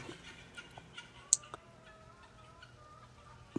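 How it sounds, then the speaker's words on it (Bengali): Guinea fowl at a meat market farm in Maryland, USA, give a few faint, scattered clucking calls over a quiet background, with one sharp brief note standing out midway. "তিথি পাখি দেখতে বেশি সুন্দর"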